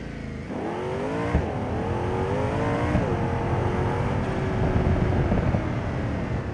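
K-Series TT Sport car in BeamNG.drive revving and accelerating through gear changes, exhaust rising in pitch with sharp shifts, loud and close, no talking.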